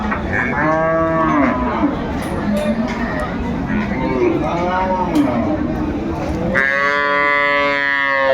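A cow with her calf at a village cattle market in Dinajpur, Bangladesh, lowing in long, loud moos close by, with a final moo at the end, over constant crowd babble and nearby talk.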